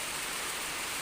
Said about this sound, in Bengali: ঝিমঝিম বৃষ্টি